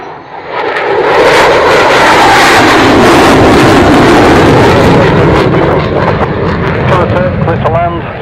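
An aircraft roars loud and close at an air show while performing a split S manoeuvre into landing, its engine noise swelling and sweeping across the full clip with a rising whine near the end.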